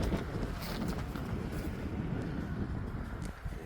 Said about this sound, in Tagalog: humahangin, lakas ng hangin, grabe.